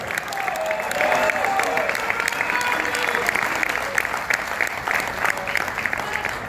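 A large event audience applauds Andrea Pirlo at a New York City FC 10th anniversary celebration, a sustained, even wash of clapping from a big crowd with some cheering mixed in.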